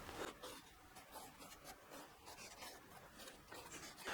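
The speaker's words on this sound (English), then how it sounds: "Camera might not pick it up, but I am using a pencil." Pencil lead scratches faintly across a wooden guitar body blank while tracing around a template, a quiet irregular rubbing of short strokes with a louder scrape right at the end.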